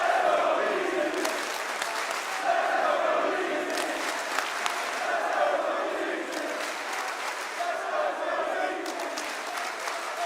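Crowd cheering and applauding at the BLAST R6 Manchester Major quarterfinals, an esports match, with a sustained roar of claps and shouts swelling in waves while commentators talk over it.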